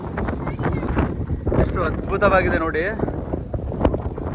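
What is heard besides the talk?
strong wind at a hilltop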